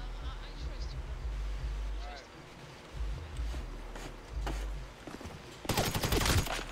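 Burst of rapid gunfire in GTA 5 FiveM roleplay erupts loud near the end, after quieter stretches of game ambience and scattered softer shots.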